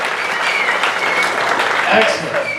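An audience at an atheist convention roast claps and cheers loudly and continuously, a dense even wash of applause with a slight swell near the end.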